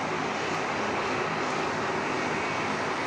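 A Qantas Airbus A380 taxis at Sydney Airport, its engines a steady, loud, broad roaring whine holding constant throughout without pause.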